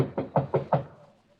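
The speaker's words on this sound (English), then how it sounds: "Better knock harder." Four firm knocks on a bedroom door in an old-time radio mystery drama, evenly spaced and close, followed by a quiet pause with no talking.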